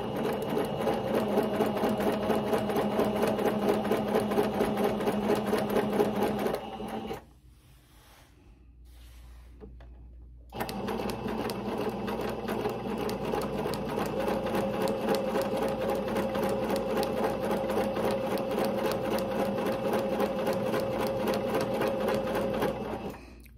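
A sewing machine stitches ribbon onto ruffle tutu socks in a steady, loud run, stops for a few seconds of near quiet, then resumes and runs continuously to the end.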